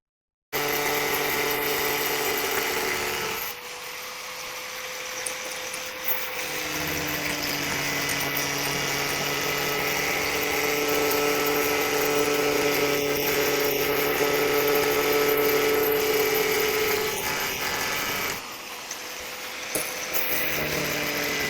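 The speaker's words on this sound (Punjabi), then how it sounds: "ਹੁਣ ਪਾਈਪ ਦੇ ਵਿੱਚੋਂ ਆਪਾਂ ਇੱਕ 6 ਇੰਚ ਦਾ ਹੋਰ ਪੀਸ ਕੱਟਾਂਗੇ" A power tool cuts through a PVC pipe, a loud continuous whirring drone that dips and changes pitch as the blade bites into the plastic, then returns to a steady whine.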